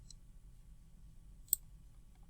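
Two crisp computer keyboard key presses, close and quiet, spaced over a couple of seconds against a faint low hum, with no talking.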